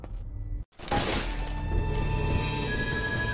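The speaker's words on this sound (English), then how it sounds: "Zombie smashing!" A zombie gets smashed in a video game: a sharp shattering crash lands right after a brief silent gap, followed by sustained loud game noise and debris-like clatter.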